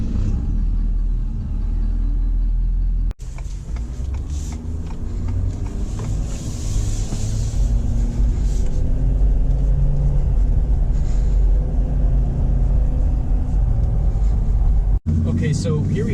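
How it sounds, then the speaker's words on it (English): A 2018 Ford F-350 pickup truck engine rumbles steadily at low pitch as it drives, with a voice talking over it throughout. "here we are setting off in the all-new 2018 F-350"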